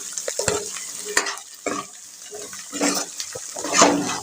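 Chicken being stirred with turmeric and chili powder in a pan, a series of scraping stirs with soft sizzling, close and moderately loud, no talking.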